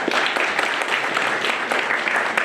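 Steady applause from an awards ceremony crowd at a Rand Water pumping site, a dense, continuous wash of many hands clapping at close range with no break.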